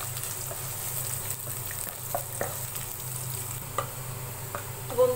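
Garlic, bay leaves and raw onion fry in oil in a pan with a soft, even sizzle, broken by occasional spoon scrapes and taps as they are stirred.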